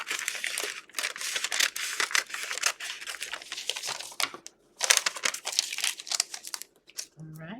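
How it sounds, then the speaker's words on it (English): Scissors cut through a vintage paper bag for junk journal ephemera, giving a busy run of crisp snips and crinkling paper, close and fairly soft, with a brief pause near the end and no talk. "I'm gonna go ahead and cut this here."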